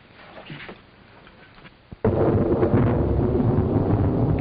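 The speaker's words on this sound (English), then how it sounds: "Worst storm I ever saw in Jerusalem." A sudden loud crack and sustained rumbling roar of a thunderstorm in Jerusalem breaks over a quieter windy background, continuing heavily to the end.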